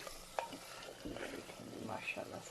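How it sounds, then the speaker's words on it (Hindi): Meat browning in cooking oil in a pot for a chana dal and gosht curry, a faint steady sizzle with occasional stirring scrapes, and someone speaking briefly over it. "गोश्त बहुत अच्छा भून चुका है"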